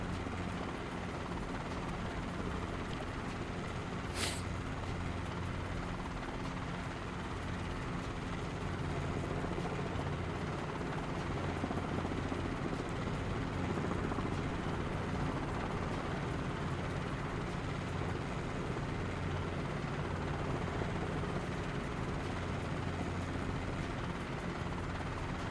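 Helicopter hovering near a runway in bad weather: a steady, loud rotor and turbine drone holds unbroken throughout, with one brief sharper click partway in, no voices.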